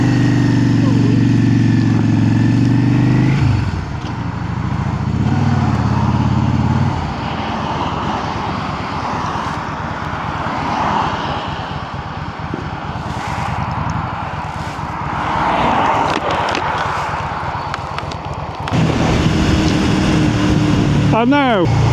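Steady motorcycle engine drone and wind roar while riding on the A66 road just outside Keswick, loud and continuous with shifts in pitch, and a rider talks over it.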